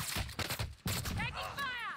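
Bursts of gunfire in the Warzone Rebirth battle royale game, several quick loud volleys in a short burst with a voice calling out over them.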